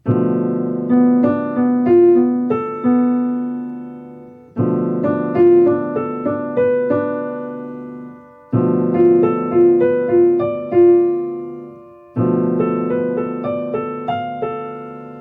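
Piano notes ring out in four phrases, each a quick run of paired tones from a half-diminished seventh chord that overlap and sustain, followed by decaying silence; no voices.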